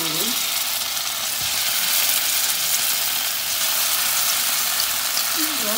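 Idli pieces frying in a pan, hardened and crisping, give a steady, loud, continuous sizzle with a few faint voice fragments underneath.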